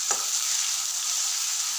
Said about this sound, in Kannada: ಇವಾಗ ಕಟ್ ಮಾಡ್ಕೊಂಡು ಇಕ್ಕಿರುವ ಟೊಮೊಟೊ ಹಾಕ್ಕೊಂಡು ಚೆನ್ನಾಗಿ ಫ್ರೈ ಮಾಡ್ಕೋಬೇಕು